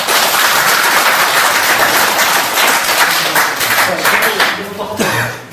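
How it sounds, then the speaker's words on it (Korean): An audience applauding at a lecture, a dense, loud, sustained patter of many hands clapping that fades near the end. "네, 박수 한번 주시죠."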